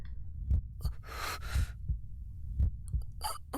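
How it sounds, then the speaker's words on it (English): Dull heartbeat thumps from the video game Chaos;Child, low and muffled, repeating at a slow, steady pace alongside breathy rushes and short noisy sounds in a quiet space. "All I could hear was the sound of my own heartbeat."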